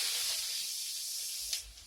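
Shrimp dropped into a hot pan with sautéed vegetables sets off a steady, close hiss of sizzling that holds for a couple of seconds, then swells briefly before fading, with no voices.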